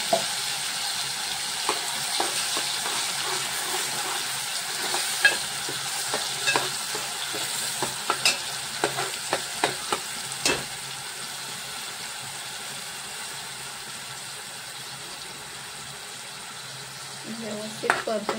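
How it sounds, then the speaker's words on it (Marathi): Spice paste sautés in hot oil with mustard seeds and curry leaves, a steady sizzle under repeated clicks and scrapes of a spoon against the pan, easing into a calmer hiss toward the end. "व्यवस्थित परतून घेऊया।"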